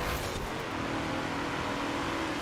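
Rover SD1 Vitesse engine in Forza Horizon 4 racing, a steady loud drone with a faint rising whine, driven through corners mid-pack in a race, continuous and close with no talk.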